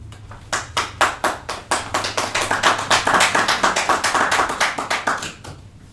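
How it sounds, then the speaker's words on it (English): Steady, distinct hand claps from a small audience at a Trinidad city council meeting, a quick even rhythm building slightly in the middle and stopping abruptly near the end, close and loud with no voices. "the clapping and the hooting and the hollering please not take place"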